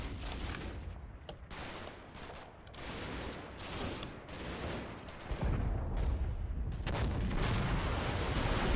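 Dense, continuous battle gunfire in Combat Mission Battle for Normandy, rattling fusillades and heavier thuds layered over a constant roar, fairly distant and sustained throughout with no voices.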